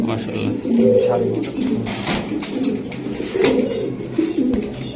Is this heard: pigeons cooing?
yes